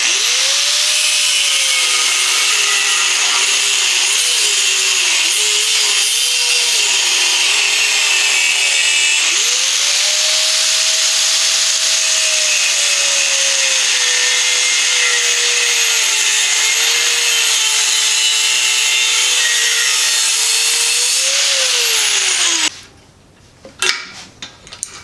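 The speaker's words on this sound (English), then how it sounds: "So you get to break the little piece out with a grinder." An angle grinder cuts away a piece of carbon fiber tube, a loud, close, sustained whine that shifts in pitch as it bites and eases, then cuts off abruptly near the end, followed by brief clunks.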